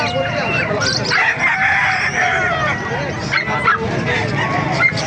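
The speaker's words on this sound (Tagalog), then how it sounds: "Ito na mga manok dito sa kalupit oh." Chickens and roosters at a busy poultry market in Calumpit, Bulacan, crow and cluck in a dense overlapping chorus, with honking fowl and people talking underneath throughout.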